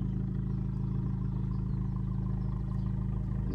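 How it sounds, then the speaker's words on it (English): An Abarth 595 Competizione 180bhp with a quad Monza exhaust idles steadily, a low, even burble with a constant hum and no sharp revs, holding at a moderate level throughout. "it's got the quad Monza exhaust system"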